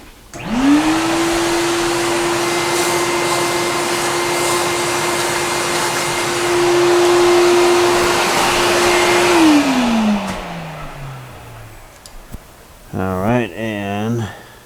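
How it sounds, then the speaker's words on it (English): A vacuum cleaner switches on during floor finishing work, its loud steady whine holding for about nine seconds before winding down as the motor stops, followed by a brief burst of nearby speech. "let's grab the vacuum."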